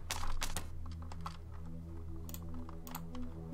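A computer keyboard is tapped during a play session of the puzzle game Polarity, with quick clustered keystrokes, a few sharper presses, over a low steady hum.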